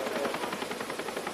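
A medical rescue helicopter arriving to pick up an injured two-year-old, with steady rotor chop and turbine whine filling the short stretch at a moderate, even level and no talk.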